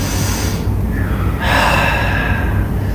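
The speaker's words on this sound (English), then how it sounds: "Inhaling for 2 full breaths." A deep inhaling breath in an exercise class, loud and close, with a long airy intake after a brief pause, heard alone with no talking.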